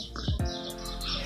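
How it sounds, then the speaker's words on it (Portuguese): Small birds chirping at the Quinzinho de Barros zoo in Sorocaba, a few quick tweets and a short call over a faint background of other birds. "Aqui é só passarinho"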